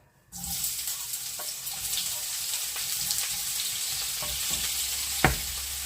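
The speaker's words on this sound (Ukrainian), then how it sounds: "Олійка розігрілась, викладаємо на сковорідку." Vegetable slices hit hot oil in a frying pan and sizzle steadily after a brief quiet start, a loud close hiss with occasional sharper spits and one knock near the end.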